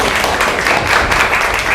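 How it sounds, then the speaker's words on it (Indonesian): A classroom of students applauds a classmate named Putri, a steady dense wash of clapping that stays even and fairly loud for under two seconds, with no voices standing out. "tepuk tangan untuk Putri"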